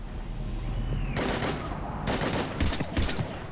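Gunfire in Mass Effect 3 during a combat scene against Husks, loud cracking shots and bursts layered over a constant roar of battle noise, growing denser toward the end.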